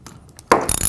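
Metal socket and ratchet clicking on a wheel bolt, a few faint ticks followed by a louder burst of rapid ratcheting as the bolt is snugged against lock washers, close up and alone.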